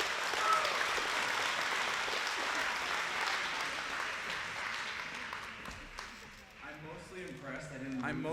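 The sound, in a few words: applause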